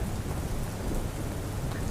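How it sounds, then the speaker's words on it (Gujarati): Heavy rain pouring down steadily across Banaskantha district in Gujarat, a dense, continuous hiss close at hand with no breaks. "બનાસકાંઠા જિલ્લામાં ઠેર ઠેર વરસાદ વરસી રહ્યો છે"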